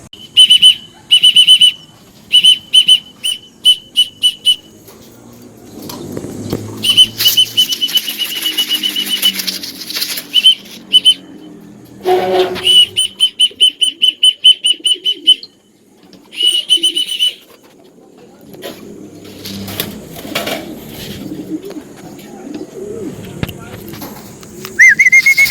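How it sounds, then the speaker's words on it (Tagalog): Pigeons arriving at a rooftop loft during a toss race, with bursts of loud, shrill electronic beeps or whistles, soft cooing and flapping wings, and someone talking intermittently over the activity. "dumating na ibon natin"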